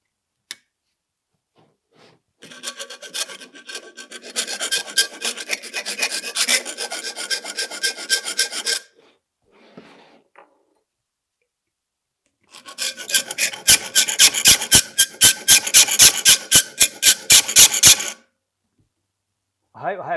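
A hand file rasps through a slot in sheet metal clamped close to the cut, sounding as two long runs of harsh, rhythmic strokes separated by a quiet gap, the second run faster and louder.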